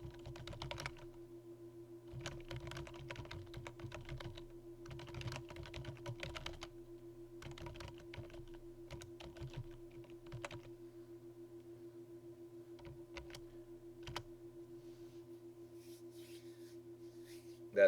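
Bursts of keyboard typing in irregular clusters, fairly quiet, against a steady electronic hum, as someone enters text in a word-processing document.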